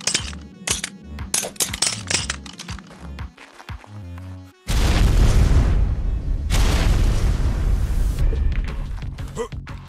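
Grenade explosions in the video game ARK on a PvP server: a few sharp pops early on, then a loud, sustained roaring blast with broadband rumble that fills the second half and stays dense until the end.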